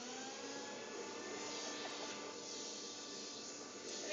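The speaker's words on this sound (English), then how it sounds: "Loving the vacuum cleaner." A household vacuum cleaner runs steadily and close by, a continuous broadband whine and roar that holds at an even level without pause.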